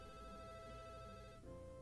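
Soft phone ringtone from a girl's pocket in the visual novel game Katawa Shoujo, a steady quiet tonal ring, faint and continuous.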